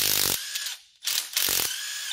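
Ratchet wrench turning a 10 mm socket on a wobble extension during automatic transmission service on a 2010 Toyota Matrix: two bursts of rapid, close mechanical clicking separated by a short pause, loud and alone.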